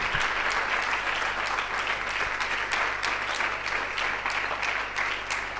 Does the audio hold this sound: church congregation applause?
yes